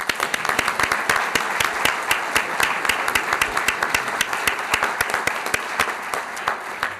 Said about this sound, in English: Let's have a great round of applause.